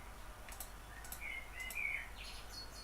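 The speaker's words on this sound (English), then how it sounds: "you have to let me know if you find the birds annoying" Small birds chirping in the background, a few short bright tweets and trills, fairly faint and distant over a steady low hum.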